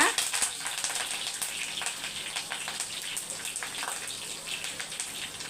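Fennel seeds, a broken green chili and curry leaves dropped into hot oil in a pan for kuzhambu, a bright, crackling sizzle that stays steady and close, with a spoken voice over it.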